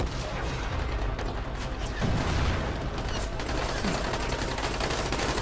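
Bomb blast in the zombie video game Dying Light, a dense continuous rumble of explosions and crackling gunfire-like bursts, loud and sustained with a few heavier thuds.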